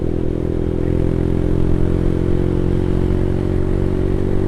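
An old air-cooled motorcycle engine with no radiator running steadily while being ridden, a loud, even, close drone with light mechanical clatter and wind.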